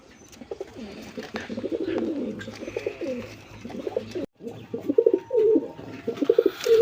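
Domestic and foreign pigeons, including Baghdad birds kept for sale, coo in close, repeated throaty bursts, several overlapping calls with a short pause midway, no speech.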